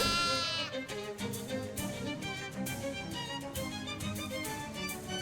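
Sheep bleats from the video game Shadows Over Loathing, a few repeated cries set over a steady bed of game music and background sound.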